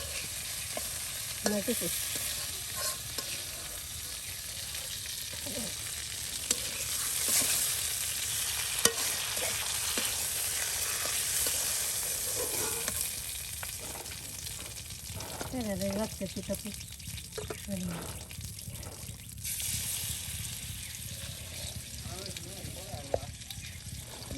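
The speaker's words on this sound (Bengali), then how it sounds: "মাছ ভাজা হচ্ছে।" Pangas fish fries in hot oil, giving a low, steady sizzle with occasional stirring and faint background voices.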